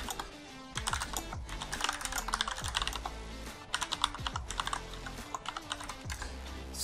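Typing a command on a computer keyboard, a close, brisk run of key clicks in irregular bursts with short pauses between them and no voice.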